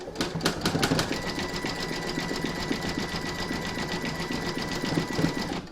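An embroidery machine stitches round 9 of an in-the-hoop appliqué bell design, a steady rapid mechanical chatter of needle strokes running evenly throughout, with a few sharper ticks at the start.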